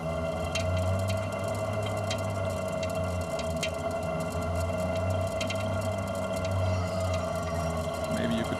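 An underwater signal tone during a world record freedive to 122 metres, a faint, steady, sustained low tone under a continuous murky underwater hiss, with scattered clicks and no talk.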